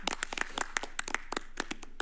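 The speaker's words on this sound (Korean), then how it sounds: "서로를 쳐다보면 한번 박수 한번 치시면 어떨까요?" Four presidential candidates clapping for one another at a televised 2022 South Korean debate, a small group of sparse, distinct hand claps in an uneven rhythm, fairly faint and close.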